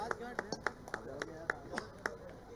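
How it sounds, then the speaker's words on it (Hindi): A rally crowd claps in loud, evenly spaced beats, about four per second, under a steady bed of voices and public-address talk. "जोरदार ताली बजा"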